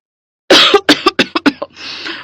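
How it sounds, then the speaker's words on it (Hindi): A close, loud coughing fit: one heavy cough followed by a quick run of smaller hacking coughs, ending in a raspy breath. "और बिमला भी खांसते हुए कहने लगी"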